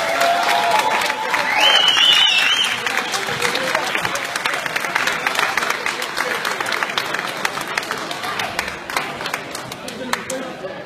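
A fight-night crowd applauds and cheers for two fighters at a debut bout, a dense, loud wash of clapping swelling early and then holding steady, with shouts mixed in.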